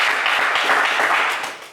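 A game-show studio audience applauds a contestant, a dense, steady wash of clapping that holds briefly and then fades toward the end.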